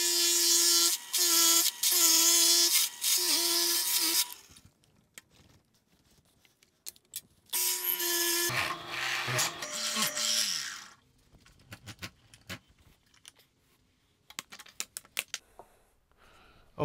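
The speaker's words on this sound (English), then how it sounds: "and we're going to drill" A dull spade bit drilling into wood makes two loud bursts of high-pitched whining, grinding and rasping, separated by a pause. Scattered clicks and handling noises follow.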